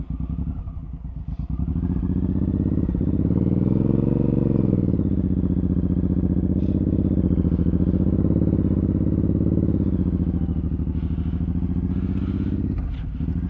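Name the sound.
Suzuki M109R motorcycle riding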